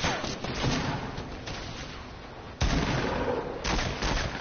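Gunfire in the Fortnite video game: a few sharp shots, including a loud burst at the midpoint and another shortly after, set against busy game noise.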